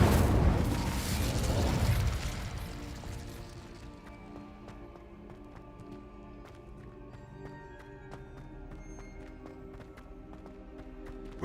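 Incendio fire spell cast in Hogwarts Legacy: a loud whooshing, crackling burst of flame in the first two seconds, then fading into quieter game ambience with scattered clicks and tones.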